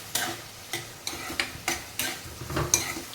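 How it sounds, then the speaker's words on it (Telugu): A spoon stirs chicken pieces coated with turmeric in a frying pan, giving rhythmic scraping strokes about every half second over a soft sizzle, close up with no talking. "బాగా కలుపుకోవాలండి వేగడానికి"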